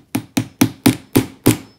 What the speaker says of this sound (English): And then I'm just going to take my hammer again and